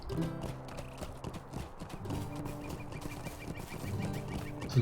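Horse hooves clip-clopping in the online game Lord of the Rings Online, a steady near gallop under layered game ambience with faint bird and fowl sounds and music-like tones, no voice.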